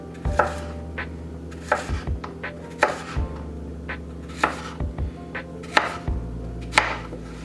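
Knife chopping plátanos on a cutting board, a dozen or so firm, close knocks in an uneven rhythm, some in quick pairs, over a steady low hum, no talking.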